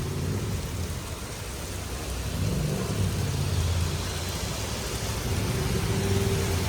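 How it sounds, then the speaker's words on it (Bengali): Heavy rain pours steadily in Turin, Italy, with a deep thunder rumble rolling underneath, growing slightly louder toward the end; no voices. "ইতালি তরুণ শহরে প্রচণ্ড পরিমাণ বৃষ্টি এবং কি ঝড়"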